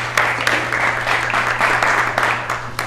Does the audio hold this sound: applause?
yes